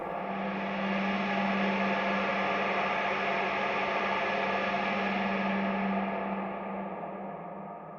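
A dense, gritty fuzz tone with a washy reverb tail, droning steadily for several seconds before fading slightly at the end.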